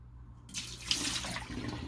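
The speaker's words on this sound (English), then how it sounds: "let me take some water out so you guys can see the line" After a quiet start, water splashes and pours out of a Black+Decker rice cooker pot, a close, fairly faint rushing trickle that continues to the end with no voices.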